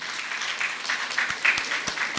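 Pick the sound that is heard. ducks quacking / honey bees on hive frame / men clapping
men clapping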